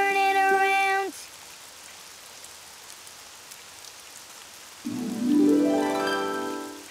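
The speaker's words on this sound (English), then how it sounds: "it's raining outside" Rain falls outside in an animated children's show, a steady soft hiss filling a pause between bright musical tones at the start and end.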